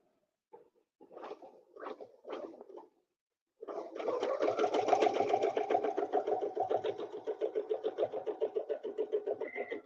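A sewing machine stitches with ruler templates in a quilting session, starting with a few short bursts and then running steadily as a fast, even mechanical chatter that eases into a pulsing rhythm near the end.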